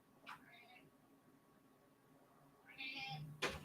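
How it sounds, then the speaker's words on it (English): A house cat meows indoors, a short call early on and a longer, louder drawn-out meow near the end, faint against a quiet room with a brief sharp noise at the close. "My cat's going nuts."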